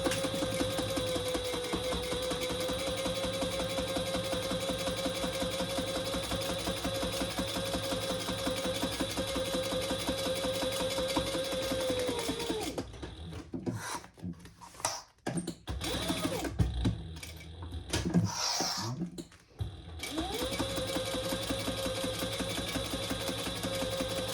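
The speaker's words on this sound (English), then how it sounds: "We're going to stitch on 1/8 of an inch on both sides, long sides." Sewing machine stitching a bag seam, a steady mechanical whir running for several seconds, then a stretch of irregular clatter and pauses before the even hum resumes, fairly quiet and alone.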